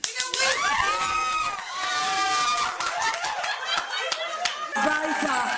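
Israelis in Tel Aviv's Hostage Square cheering and clapping at a hostage release, a dense crowd roar with applause and shouting voices running steadily throughout.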